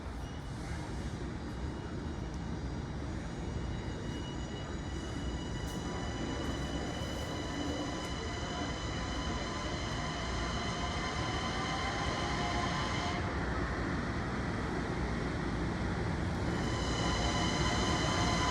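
A new Long Island Rail Road train rides into the new Grand Central Madison station, with a steady loud rumble and rolling rail noise throughout and a high electric whine that shifts partway through.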